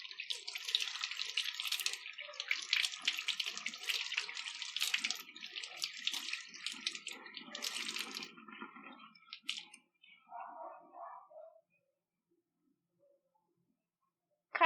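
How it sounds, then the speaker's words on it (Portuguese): Tap water runs steadily to rinse soap out of fabric for about ten seconds, close and fairly loud, then is shut off, leaving a few soft drips and a faint click. "vou ligar a água para tirar o excesso do sabão."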